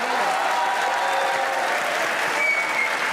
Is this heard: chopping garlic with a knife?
no